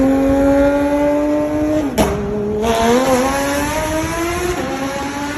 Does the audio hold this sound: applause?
no